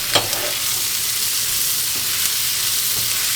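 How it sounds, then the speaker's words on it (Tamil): Onion and crushed garlic fry in a pan with a steady, close sizzle, broken only by a couple of faint stirring knocks near the start; no voices are heard. "இந்த சமயம் இடித்து வச்ச பூண்டை போட்டுக்கிறேன்."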